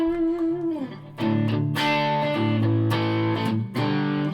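A Yamaha AEX520 electric guitar with light distortion plays chords and sustained notes, strummed in bursts with short gaps between them.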